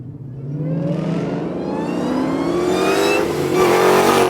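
A 1971 Dodge Challenger Hellcat restomod's engine accelerates hard, its loud, close roar climbing steadily in pitch through a gear before a brief shift and another rising pull.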